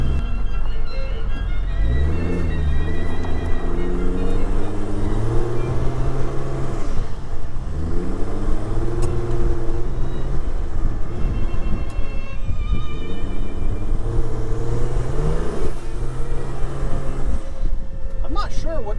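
An abandoned Volvo 740 turbo diesel with a D24T engine revs up repeatedly during a test drive, its drone rising and falling in several long sweeps, with a person talking over it.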